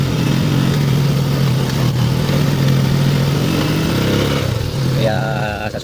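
Several motorcycles labour along a steep, narrow mountain road, a steady mid-pitched engine drone close by with a rev rising near the end, voices faintly underneath.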